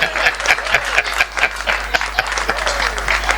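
An audience at a Hindi comic poetry gathering claps steadily, a fairly loud, continuous patter of many hands that holds from start to finish with no pause.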